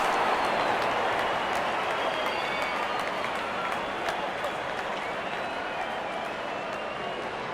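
Cricket stadium crowd at a T20 World Cup match between West Indies and South Africa, cheering and applauding in a steady, dense wash of noise that fades slightly over time, with a commentator's voice woven through.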